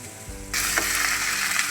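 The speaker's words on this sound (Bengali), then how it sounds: "এক চুলায় শাক ভাজির জন্য পেঁয়াজ আর এক চুলায় ভেন্ডি ভাজির জন্য পেঁয়াজ দিয়ে দেওয়া হয়েছে" Chopped onions go into hot oil on two burners, one pan for greens and one for okra, and a sudden bright sizzle takes over and stays loud for the brief moment that follows.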